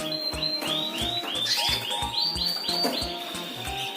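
Young Merlok canary chicks chirp in a cage, a dense run of high, rapid repeated peeps and tweets from several birds overlapping at moderate distance, continuous throughout with no voices.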